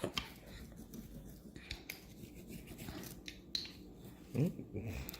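A knife or pizza cutter scrapes and saws through a homemade pizza crust on a floured surface, giving faint, uneven rasping and scratching strokes, with a brief louder scrape near the end.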